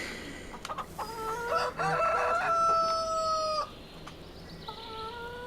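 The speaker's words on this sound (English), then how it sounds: "Always gives me a big thank you, that cockerel, every time I drop a bit of food down for him" A cockerel in Farming Simulator 25 crows one long clear cock-a-doodle-doo at close range after feed is scattered, followed by soft clucks and a shorter second call near the end, with no talking.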